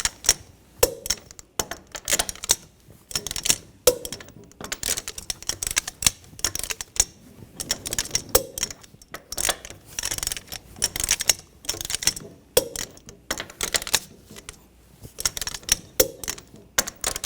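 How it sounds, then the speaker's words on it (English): A torque wrench tightens the lug nuts on a 2014-2020 Nissan Rogue wheel, giving a string of sharp clicks in quick irregular bursts, close and fairly loud, with no talking. "Now we're going to torque the lug nuts to 83 foot-pounds in a cross pattern to tighten the wheel down evenly."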